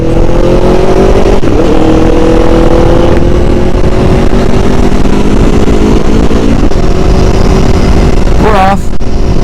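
Aprilia Tuono motorcycle cruising on an open road in third gear, engine droning loud and close with a steady pitch that slowly drifts, plus a brief rising rev near the end under heavy wind rush.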